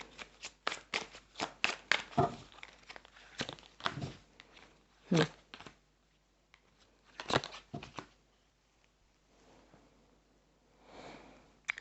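Tarot cards are shuffled close by in quick, crisp riffling bursts, pausing and resuming several times, with soft handling noises between.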